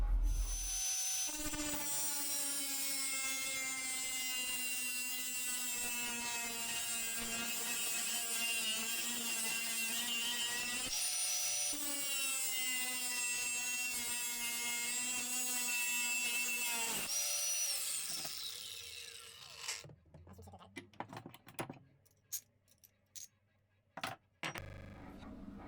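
Angle grinder cutting through a small WERKMANN clamp, a steady high whine running for about seventeen seconds with brief dips between passes, then giving way to scattered clinks and handling noises.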